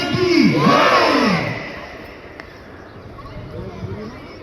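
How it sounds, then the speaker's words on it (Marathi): A crowd loudly chanting the patriotic slogan Bharat Mata ki Jai at a Republic Day celebration, a strong burst of massed voices in the first second and a half that fades into quieter crowd murmur. "भारत माता की जय अशी घोषणा दिली गेली आणि या आवाजाने आजूबाजूचा परिसर दुमदुमून गेला"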